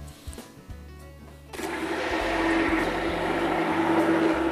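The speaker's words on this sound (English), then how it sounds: "What we use is one of these hand blenders, which work great." KitchenAid hand blender mixing lye and oils for olive oil soap; after a quiet start with faint clatter, the motor kicks in at about 1.5 seconds and whirs loudly and steadily to the end.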